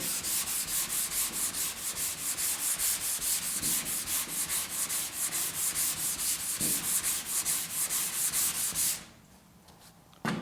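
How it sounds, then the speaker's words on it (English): Close, steady sanding on a car quarter panel during restoration of a GTO restomod, with rhythmic back-and-forth rasping strokes for about nine seconds before it stops abruptly and the space goes quiet. "Go ahead and sand it again."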